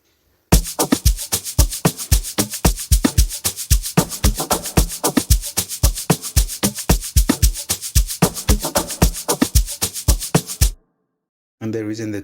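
Amapiano drum loop built in FL Studio, loud punchy hits repeating in a tight, fast groove for about ten seconds, then a short gap before more drums return.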